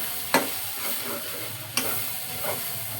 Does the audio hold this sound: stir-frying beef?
yes